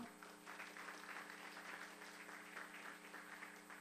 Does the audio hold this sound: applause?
yes